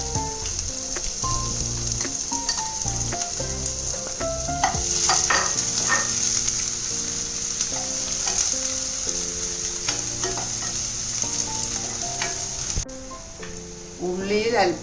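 Chopped shallots and ginger sizzle in a hot pan while being stirred for South Indian Onam sadya rasam, producing a continuous hiss with occasional stirring scrapes beneath steady background music.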